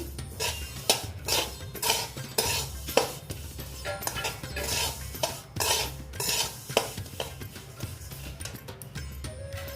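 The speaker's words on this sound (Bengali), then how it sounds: "আর একটু ভেজে নিচ্ছি" Sesame seeds roasting in a pan for a festive sesame sweet get stirred with a utensil, giving steady, rhythmic scrapes and clinks over a soft sizzle that continues for the whole stretch, with no talking.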